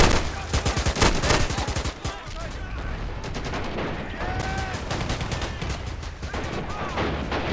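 Heavy gunfire in a video game battle for Pork Chop Hill, loud rapid volleys of shots hammering in quick succession, thinning briefly midway before resuming at full strength.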